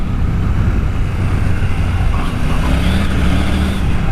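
A supermoto motorcycle engine pulls hard and steadily under acceleration, loud and close, with dense wind rush over the whole stretch.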